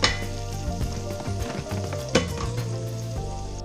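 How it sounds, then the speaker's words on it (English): Carrots and onions cook in butter and olive oil over medium-low heat, a close steady sizzle with occasional stirring clinks and scrapes of a utensil against the pan. "And then in go our carrots and onions, aka mirepoix. We're going to let those cook over medium-low heat."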